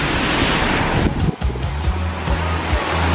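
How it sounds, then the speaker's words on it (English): Heavy rain pours outdoors on a street in Seoul, a loud broadband hiss that dips and gives way to gusty wind buffeting the microphone. "I did not bring an umbrella, it's time to run in the rain."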